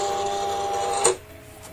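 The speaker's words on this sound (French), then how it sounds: "on charge dans la machine pour envoyer la découpe" Silhouette Cameo cutting machine with a self-adjusting blade loaded with a sticker sheet: steady motorized whirring with tonal hum runs close and loud, then a brief clack as it stops and drops to a quiet residual hum.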